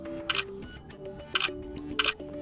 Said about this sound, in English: So you can just simply touch the sensor and you can take photo.